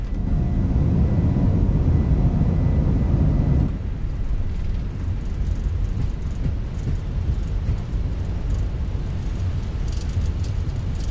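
Simulated Wizz Air Airbus A321 accelerating down the runway for takeoff in Microsoft Flight Simulator 2024, a loud, steady broadband engine roar with rumbling that eases slightly a few seconds in and then holds constant, with no voices.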